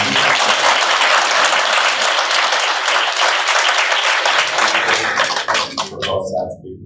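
Loud, dense applause bursts from the crowd at a community meeting about a school proposal, holding strong before thinning into scattered claps and fading out.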